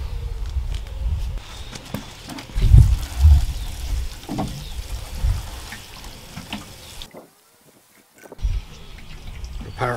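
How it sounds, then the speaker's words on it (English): Water poured onto a newly planted foxglove in a garden, a soft splashing pour with low thumps and rustles near the mic, falling silent briefly before a final splash. "Give that a bit of water too."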